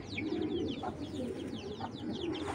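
Khaki club pigeons coo in soft, repeated low throaty calls at close range, with bright chirps and tweets from other birds scattered over a constant background, and no talking.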